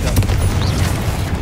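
A deep booming blast from the Confringo fire spell in Hogwarts Legacy rolls out low and loud inside a crypt, sustained with a rumbling tail and no talk.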